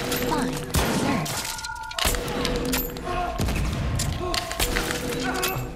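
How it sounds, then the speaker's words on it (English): Pipe bombs exploding in The Last of Us Part II Remastered, several sharp booming blasts a second or so apart with debris and crackle, while a voice talks and game sounds continue between them. "they're dropping pipe bombs"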